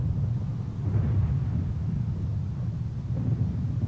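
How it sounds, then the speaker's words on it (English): Thunder rumbling after a lightning strike in the Minecraft video game, a steady low booming roll that fills the whole stretch without any voices. "A lightning almost struck your house."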